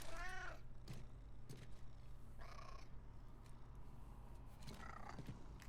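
A cat in an Overwatch highlight intro, unhappy at being lifted up, gives three separate meowing cries over a faint, steady background hum.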